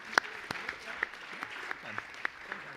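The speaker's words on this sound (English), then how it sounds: "Let's give them a round of applause." Audience applause at an eye imaging summit conference, a short scattered round of clapping with distinct individual claps, fairly light and thin.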